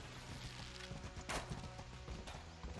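A horse's hooves clip-clop steadily in the medieval combat game Mordhau, a moderately loud, continuous trotting rhythm over low background rumble.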